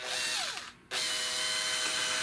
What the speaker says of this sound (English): I actually drilled further than what I thought this way